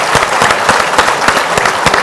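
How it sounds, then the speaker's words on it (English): A conference audience at a city economy event gives a round of applause, loud and close, with sharp individual claps standing out in a quick, uneven rhythm throughout. "So let's give you a round of applause."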